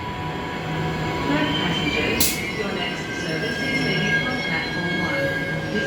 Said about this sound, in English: Clarkson service leaving platform number 2.